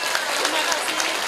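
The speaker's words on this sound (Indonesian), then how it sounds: "Monggo tepuk tangan dulu dong tinten menika." Dense audience clapping at an Islamic religious gathering, a continuous bright patter of many hands with faint voices mixed underneath for a short moment.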